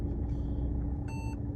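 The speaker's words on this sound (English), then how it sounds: "That beep just means that the car is now parked itself" A Mercedes-Benz finishing self-parking gives a single short electronic beep, clear and tonal, over a low steady engine rumble inside the car.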